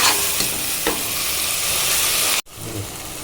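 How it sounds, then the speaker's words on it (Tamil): Tomatoes and onions sauté in a pan for tomato rice, making a loud, close, steady sizzle with a couple of stirring scrapes, then briefly cutting out before the frying resumes more quietly. "நல்லா போட்டு வதக்கிக்கோங்க. தக்காளி நல்லா வதங்கணும்."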